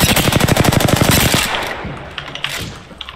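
A rapid burst of automatic gunfire in a video game, loud and close for over a second, then trailing into scattered quieter shots and faint echoes.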